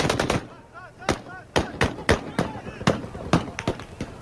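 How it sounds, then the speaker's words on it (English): AK-47 rifles fire on a US-led coalition patrol at a checkpoint in northeastern Syria, with sharp single and clustered gunshots cracking out at irregular intervals, fairly close and echoing, some in quick bursts. "That's the sound of AK-47s firing on the U.S.-led coalition forces."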